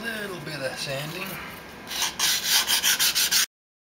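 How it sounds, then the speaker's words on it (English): Sanding a hollow molded composite tail for a model plane, first slow irregular rubbing, then a loud run of about eight quick, even back-and-forth rasping strokes up close. "Just a little bit of sanding."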